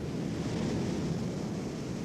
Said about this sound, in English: There's enough energy in waves like this to carry off hundreds of tons of material on every tide.